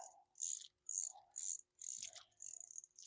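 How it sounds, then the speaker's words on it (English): A freshly rebuilt bicycle freewheel spins after its lock ring is tightened, giving off repeated bursts of fast ratcheting pawl clicks in a steady on-off rhythm, close and fairly quiet, with no talking. "I'm just tightening down that lock ring and give it a spin"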